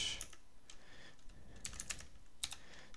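Java code is typed on a computer keyboard in a quick, close, irregular patter of key clicks with small pauses, no voices.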